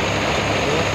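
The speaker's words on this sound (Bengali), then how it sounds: "এটা হলো রকেট ডিলাক্স মেশিন 35 হর্স পাওয়ারের 750 আরপিএম এর মেশিন।" A Rocket Deluxe 35 horsepower, 750 rpm thresher machine runs in a farm field, giving a loud, steady, close-up mechanical drone with no pauses for one second.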